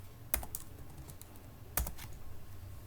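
C code is typed on a computer keyboard in close, quiet clusters of keystrokes, with two sharper key strikes standing out, and no voice over it.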